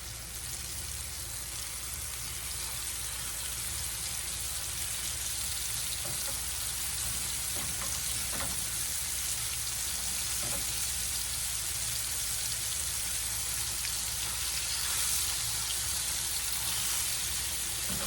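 Steak crackling in a hot pan, a steady, dense sizzle with fine popping that runs evenly for well over fifteen seconds at moderate volume, with no voices.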